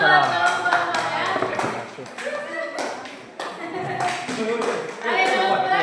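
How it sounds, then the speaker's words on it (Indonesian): A classroom audience applauds a group after its presentation, with dense clapping that runs throughout, swells and dips, and mixes with voices. "Ada yang tepuk tangan lagi ya"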